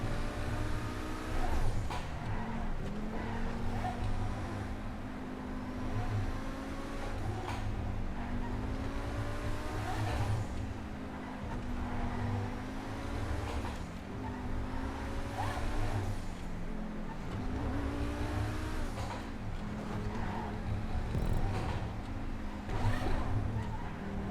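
A Tempesta supercar in GTA 5 drives fast with its engine roaring loud and close, rising and falling in pitch through repeated gear shifts and revs, with no voice over it.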